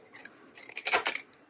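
Scissors snip paper for a handmade Christmas folio, a few quick close cuts clustered in about a second, quiet and dry with no talk.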